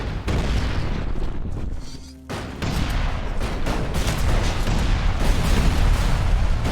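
Dense, continuous barrage of booming explosions and heavy gunfire in the video game ELEX II, loud and sustained with only a brief dip midway.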